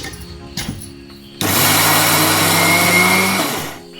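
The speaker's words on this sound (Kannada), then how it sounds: "ಇವಾಗ ನುಣ್ಣಗೆ ರುಬ್ಕೊಳ್ಳೋಣ." Mixer grinder blending soaked rice and jackfruit into dosa batter: a loud, steady motor whir starts abruptly after a couple of brief knocks and runs for about two seconds before winding down.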